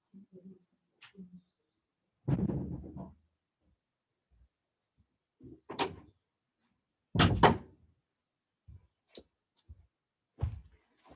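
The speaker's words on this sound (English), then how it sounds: "I'm just going to go and shut one of the doors" A door is shut indoors during a yoga class, giving a few dull thumps and clicks scattered among quiet pauses, moderately near and fairly soft.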